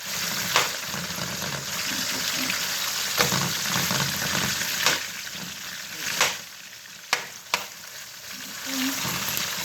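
Cassava and salt fish with onion fry in a pan with a steady loud sizzle, broken by a few clinks and stirring scrapes, with no talking.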